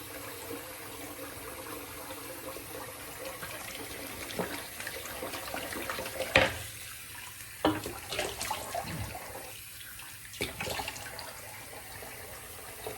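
Water running from a tap in a bathroom sink in Houston during a straight razor shave, a steady soft hiss broken by several sharp clinks and splashes.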